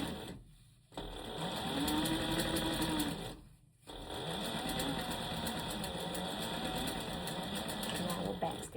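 A sewing machine stitches a skirt panel seam in two runs of fast, even mechanical whirring, the first briefer, the second longer and steady, with a brief stop between and quiet talk under it.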